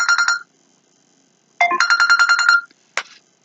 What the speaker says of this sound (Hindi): एक सेकंड, मेरा फोन आ रहा है।